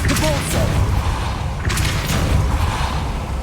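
In Hogwarts Legacy, a Depulso force spell hits with heavy, loud booming thuds over a dense, rumbling layer of game effects, including a couple of sharper bursts.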